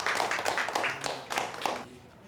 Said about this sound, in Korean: 케이크의 등장을 가족들은 박수로 맞아준다.